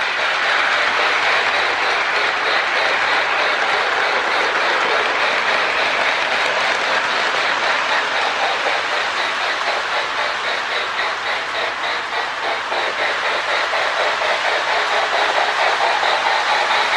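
A Lionel MPC-era model steam locomotive with Sound of Steam runs on track, giving a steady rhythmic chuffing hiss with clicking wheels, loud and continuous throughout.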